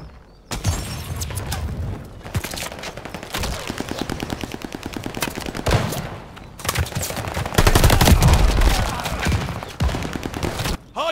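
Rapid gunfire around a hard point in the video game Call of Duty: Vanguard, dense bursts of automatic fire with booms, loud and close, continuing for over ten seconds with only brief gaps.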